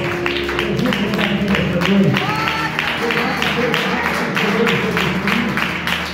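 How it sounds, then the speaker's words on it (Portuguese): Church congregation clapping hands in a regular rhythmic beat, loud and close, under sustained organ or keyboard tones and singing voices. "Pode bater palmas, pode dar glória a Deus."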